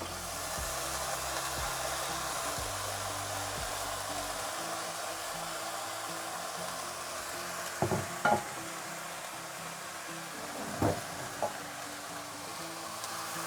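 Mixed vegetables and sautéed onion are stirred in a pan, a steady hiss of gentle sizzling under a loud fan-like drone, with a few soft scrapes and clinks of the spoon near the end.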